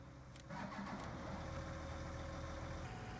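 A tractor engine in Farming Simulator 19 on a Kansas farm, working with large planters; a steady mid-pitched engine drone jumps louder after a brief start and holds a constant idle-like hum throughout, close and alone.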